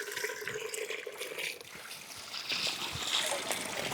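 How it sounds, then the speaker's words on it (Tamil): Water is poured into a bucket to rinse freshly picked noni fruit, with close splashing and sloshing that swells toward the end while people talk throughout. "தண்ணி ஊற்றி ஃபுல்லாக அலாசிடுறா."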